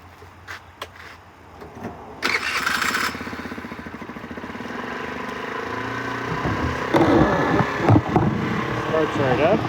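A 2022 Yongfu Wicked 50, a 50cc four-stroke gas scooter, cold after sitting overnight. A brief starter whir gives way as the small engine catches and settles into a steady, close buzzing high idle.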